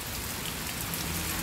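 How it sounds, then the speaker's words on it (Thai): Steady rain falls in a continuous, dense hiss of drops on surfaces, even and unbroken throughout, with no voices. "วันนี้มาฟังเสียงฝนกันนะคะสำหรับคนที่ชอบเสียงฝนจ้านะคะ"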